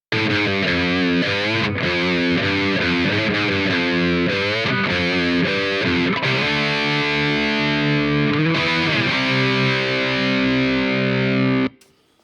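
Heavily distorted electric guitar through an Amplitube 5 Lindell 50 amp simulator, playing sustained chords and riffs, loud and continuous, ending abruptly near the end.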